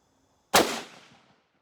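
A single loud rifle shot from an M.24/47 Yugoslav 8x57 Mauser firing PPU ammunition outdoors in light rain, a sharp crack followed by a decaying echo lasting under a second.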